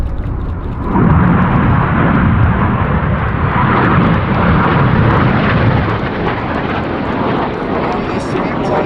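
Red Arrows display jets roaring past at the 2019 Miramar Airshow, a loud sustained broadband engine rush that swells and holds for several seconds, with a commentator's voice running underneath.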